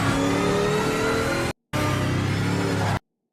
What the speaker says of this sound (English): Now, this is Project Motor Racing's Sauber Mercedes.